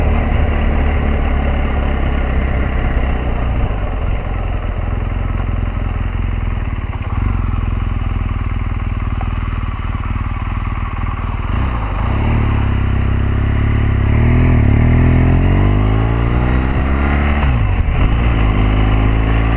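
A 2014 BMW R1200GS Adventure motorcycle engine idles with a steady, loud rumble, then revs up and down several times in the second half, close to the mic with no talk.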